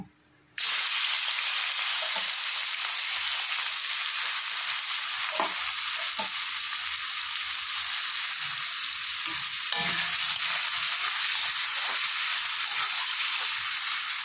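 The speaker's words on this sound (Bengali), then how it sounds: "তো ওই তেলের মধ্যেই আমি এখন চিংড়ি মাছগুলো ভেজে নেব।" Prawns sizzle loudly and steadily in hot oil left over from frying potatoes, a continuous close crackle with occasional stirring clicks and pops.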